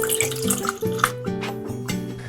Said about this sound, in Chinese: 再加入水。